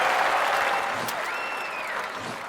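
Stadium crowd applause from a London 2012 Olympic Games video game, a dense sustained clapping that starts strong and slowly tapers, with a few whistles and cheers rising above it.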